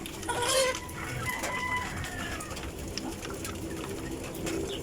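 Chickens and hens cluck and murmur continuously nearby on a rainy day, with a few higher squawks and calls rising over a steady outdoor background.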